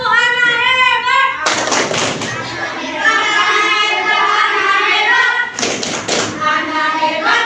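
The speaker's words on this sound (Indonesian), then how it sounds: "Tepuk anak hebat." Children clap a rhythmic Indonesian classroom clapping chant, hands striking together in quick patterned bursts while young voices chant loudly and close by throughout.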